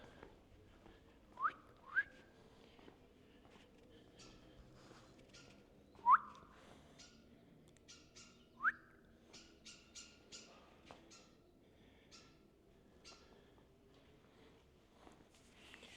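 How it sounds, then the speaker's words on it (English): Several birds give short squawks and whistles inside a tilapia farm's processing warehouse, a few clear calls rising from a faint background, with scattered quieter chirps between them. "There are a lot of birds in here."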